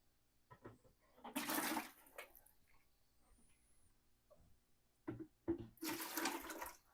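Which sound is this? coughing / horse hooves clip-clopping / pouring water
pouring water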